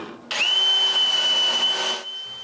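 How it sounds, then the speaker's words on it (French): Electric drill boring holes into a wooden block for an edge sander build, a steady high whine starting abruptly and running for under two seconds before cutting off, close and loud. "je perce 4 trous pour pouvoir fixer ce bloc sur le dessus"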